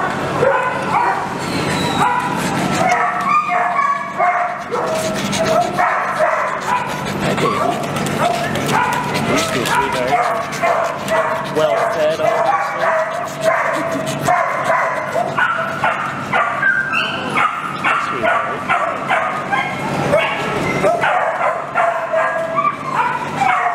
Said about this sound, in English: Hi, cutie puppy.